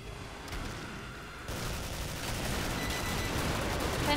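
Gunfire in the shooter game Killing Floor 2, a dense continuous barrage of shots and blasts that grows louder after a short quieter stretch, with no talk over it.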